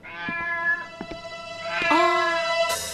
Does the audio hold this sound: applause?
no